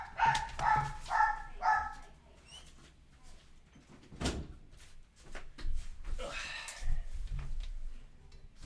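An excited puppy lets out a quick run of four sharp barks close by, followed by scattered thumps, shuffling and occasional fainter yips indoors.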